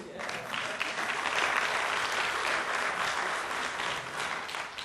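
A lecture hall audience applauds continuously, a dense, even wash of clapping from many hands that holds steady throughout, at a Holocaust and Genocide lecture series event.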